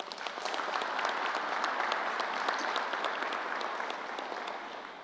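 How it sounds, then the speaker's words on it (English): Sustained applause from a crowd at a vaccination-site press event honoring the mayor and county executive, a dense even patter of many hands clapping steadily for about five seconds without talk. "Let's give them another round of applause."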